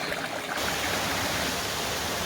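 Larapinta Falls in Lamington National Park, Queensland, roars as a steady, loud, broadband rush of falling water that fills the scene without pause.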